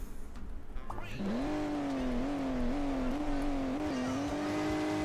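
Ferrari car in Hill Climb Racing 2 with a steady, buzzing engine drone that starts up and holds a revving pitch, climbing and dipping slightly as it drives.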